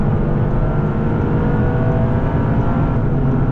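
A Toyota GR Yaris accelerates hard on the Nürburgring, its engine a loud, steady drone heard from inside the car with a dense road and wind roar, no voices.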